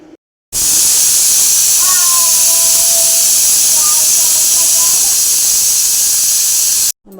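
Chicken biryani water, colored with Kashmiri chili powder, boils hard in a covered pot on an Indian home stove. A loud, steady hiss of escaping steam runs unbroken for about six seconds, with no voices.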